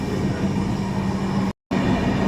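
The Sealdah–New Delhi Rajdhani Express passenger train rumbles along steadily after leaving Durgapur, with a constant low roar and faint rhythmic wheel noise, broken by a brief silent gap.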